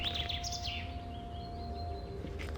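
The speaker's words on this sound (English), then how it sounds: "God, the birds are so loud here" Birdsong in the Gothic 2 game world: several high, clear chirps and warbling calls over a steady low ambient hum and a faint sustained tone, soft overall, with no talking.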